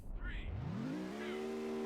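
A car engine in the video game Rush 2 revs up sharply, pitch climbing then holding at a high steady whine, with a faint voice briefly underneath near the start.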